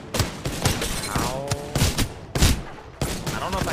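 Sniper rifle shots in a first-person shooter game, several loud sharp reports in quick irregular succession amid game effects, with a person talking in between.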